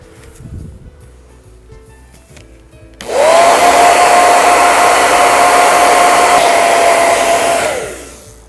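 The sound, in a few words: hair dryer drying wood filler on mosaic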